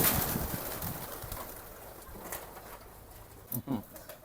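Soft, low cooing from local Bangladeshi pigeons close by, a couple of brief coos near the end over quiet rustling background.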